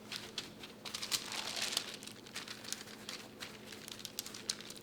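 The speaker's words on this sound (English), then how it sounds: "go ahead and pat it dry with a paper towel" Paper towel crinkles and pats softly against a raw standing rib roast as it is dried, a quiet close-up rustle of dabbing and crumpling.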